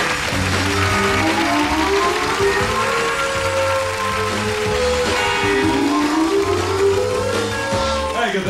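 Loud, sustained audience applause fills a 1989 stand-up comedy stage show, a dense wash of clapping with steady musical tones running underneath throughout.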